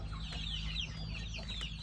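Chickens kept alongside ducks on a small mixed farm cluck continuously nearby, overlapping short calls over a steady low background rumble.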